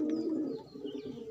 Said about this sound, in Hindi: पांच कबूतर बंदूक में